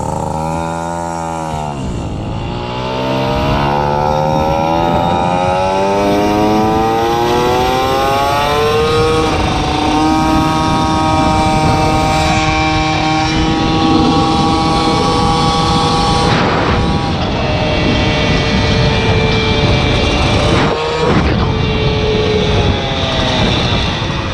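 A tuned air-cooled 70cc Peugeot 103 moped engine revs hard and close, its buzzing two-stroke pitch sweeping up and down before holding a loud, steady high whine for most of the stretch.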